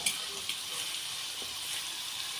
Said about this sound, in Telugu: ఆయిల్లో మీడియం ఫ్లేమ్లో పెట్టి ఉడికించుకోవాలి.